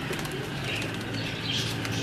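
Jeller-breed pigeons cooing in a loft after rain, with a steady, moderately loud layer of birdsong and soft chirps running through the whole stretch.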